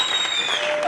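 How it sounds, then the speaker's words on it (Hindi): A live audience claps for four performers at a show, a short dense burst of applause with tonal music sounding over it. "ये चारों के लिए बहुत बहुत ताली।"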